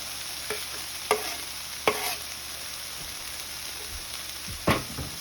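Beef with pepper, carrots, green onions and garlic sizzles softly in a hot pan, with a few sharp scraping clacks of a utensil as it is stirred.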